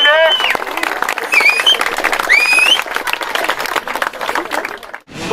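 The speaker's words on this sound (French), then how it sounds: "Je pense qu'on peut applaudir, merci à Quentin" A crowd at a motocross training camp event applauds with a steady, dense burst of clapping and a few whistles, which stops abruptly near the end.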